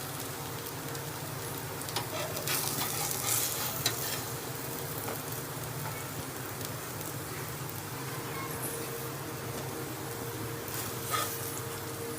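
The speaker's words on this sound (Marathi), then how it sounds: "डायरेक्ट असं शालो फ्राय करायला ठेवायचं" Aloo tikki shallow frying on a hot tava, giving a steady close sizzle with faint scraping stirs, continuous and moderately loud with no talking.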